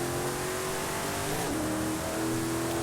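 A car engine in Forza Horizon 5 holds a steady, loud, raspy drone with a pitch that slides and shifts midway, like sustained revving throughout.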